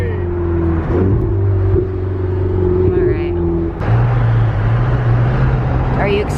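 Supercar engine revving hard after a downshift on a Santa Monica drive, a loud, close, rising drone with harmonic whine that drops and then surges again midway, with people talking excitedly over it.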